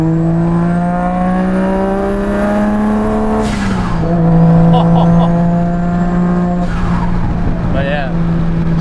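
A Datsun 280Z sports car with an RB engine hums steadily at a low, sustained pitch, its tone dipping briefly as it shifts, with light road noise and a few faint squeaks.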